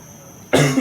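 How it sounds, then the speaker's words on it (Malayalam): A single sharp, loud cough bursts out close to the microphone after a quiet stretch, from someone with a cough that has lingered for several days. "ചുമ എന്താണാവോ നിൽക്കാത്തത്"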